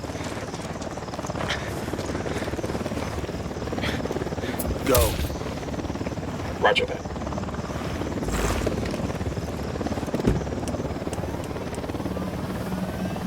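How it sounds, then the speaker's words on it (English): A helicopter approaches in the Ghost Recon Wildlands video game, its steady rotor drone continuous in the background while voices speak over it and occasional sharp game sounds cut through. "We got a chopper coming in."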